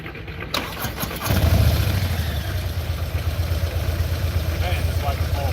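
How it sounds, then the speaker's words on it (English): A motorcycle engine catches at about one second and runs steadily at a close, loud idle, with a low rumble continuing to the end during new-rider training. "All right, CJ, I'm gonna ride this bike."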